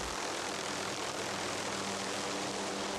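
A helicopter flies over Alaska, producing a steady, dense engine and rotor drone that stays constant and loud throughout, with no voices.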